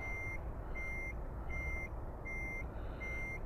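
A truck in Euro Truck Simulator 2 sounds its reversing alarm: steady, evenly spaced high electronic beeps repeating about every three-quarters of a second over a low idling engine rumble, fairly faint and alone.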